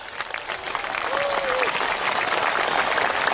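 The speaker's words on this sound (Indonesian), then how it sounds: "Jangan tepuk tangan dulu," A large crowd claps continuously at an open-field religious lecture, a dense wash of applause filling the whole stretch, with a faint voice briefly audible underneath.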